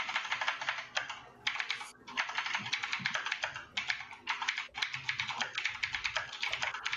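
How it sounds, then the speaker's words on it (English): Fast, continuous clatter of typing on a loud mechanical keyboard, close by, with rapid keystrokes in steady bursts and only a few brief pauses. "Wow, that is a loud keyboard."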